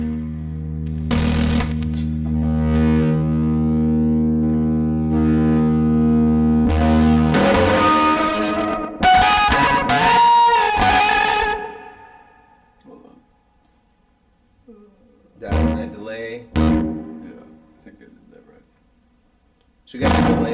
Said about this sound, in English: So we got some delay, reverb, and the octave.